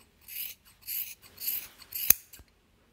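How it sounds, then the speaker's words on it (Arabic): Scissors snip through wool yarn while trimming a yarn flower, several crisp close cuts in quick succession followed by a sharp click of the blades. "نقص دركا هذا باش تولي زهرة"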